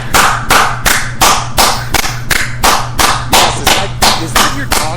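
Hand clapping, about fifteen loud, sharp, evenly paced claps in a steady rhythm, close up, with no talk over them.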